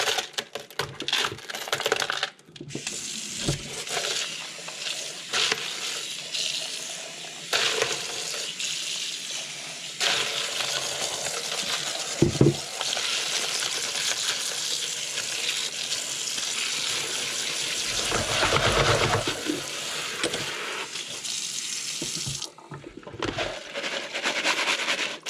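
Dirty clad coins from metal detecting are rinsed under a running kitchen tap, producing a continuous close splashing hiss of water into a sink, with brief clinks and dips in the flow.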